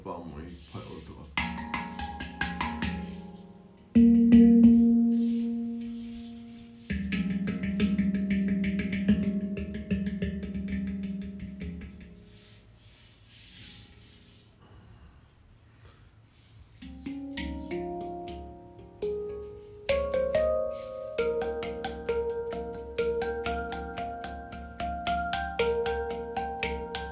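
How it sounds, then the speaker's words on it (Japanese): A handpan played slowly, with resonant metallic tones ringing out in sparse phrases, some held and some quicker runs, close and moderately loud, while a voice speaks softly over part of it. "今日のハンドパンもいっぱい音が。"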